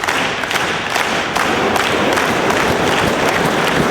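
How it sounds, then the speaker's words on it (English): A Chicago wrestling crowd cheers and applauds, a loud, continuous wash of clapping and crowd roar with scattered sharper claps, filling the whole stretch with no one talking over it. "you hear this Chicago crowd"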